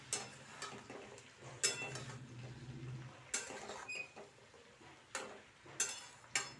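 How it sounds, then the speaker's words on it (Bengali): Spring onion stalks and potatoes are turned over in a pan, making quiet scraping and knocking sounds at irregular intervals with a soft frying hiss underneath, no voices. "পেঁয়াজ কলি আলুটা ওপর নিচ নাড়াচাড়া করে নিলাম"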